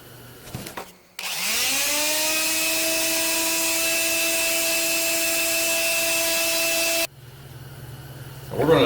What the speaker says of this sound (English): I'm going to use just a palm sander and I think it's about 120 grit.